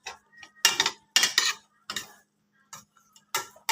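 Cutlery and pan clatter from scrambled eggs being cooked for breakfast, with several loud bursts of scraping and clinking separated by short pauses.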